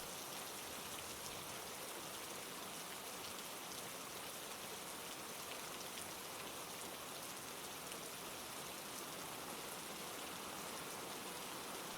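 Steady rain falling on a surface at night, a dense, even hiss of drops with no distinct drips standing out, continuous and moderately soft for the whole stretch with no voices.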